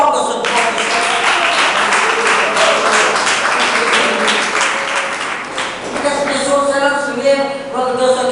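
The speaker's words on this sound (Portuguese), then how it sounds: "exalta a Deus com palmas, meus irmãos" A church congregation claps together during an evangelical sermon, dense sustained applause filling the space, with a preacher's voice and musical tones rising over it toward the end.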